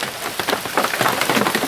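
Heavy rain pours steadily at an off-grid tiny house, a loud, dense patter of drops hitting surfaces close by, with no voices.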